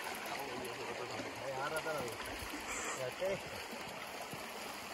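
The Espinarejo river rushes and gurgles steadily over stones at a crossing point, a close, continuous broadband water noise, with people talking over it.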